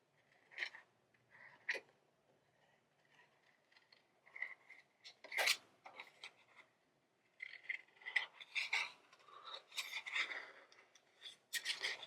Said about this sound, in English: So I'm going to cut that part off.